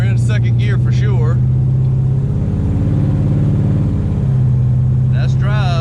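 A 1968 Dodge Charger with a Hemi engine and NAG1 transmission cruises in second gear, its steady low engine drone filling the cabin throughout, with people talking over it at the start and end.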